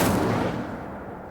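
An Incendio fire spell cast in Hogwarts Legacy lands as a single loud, broad whoosh-burst that decays over about a second, with no talking.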